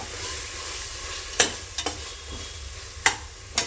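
Masala frying in hot oil in a pan for hotel-style mutton biryani, a soft steady sizzle with a few sharp clinks of a spoon stirring against the vessel, close and alone.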